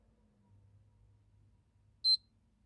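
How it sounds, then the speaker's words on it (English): A Sony PS3 Super Slim gives a short, high double beep during a power-button reset, heard once and alone after a faint low hum, with no talking. "Double beep."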